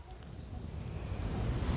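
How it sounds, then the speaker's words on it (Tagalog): Ocean waves roll onto a beach in Phuket, Thailand, a low steady wash of surf that swells slightly louder toward the end, mixed with wind rumble on the microphone. "Oh, ang lalaki ng alon, oh."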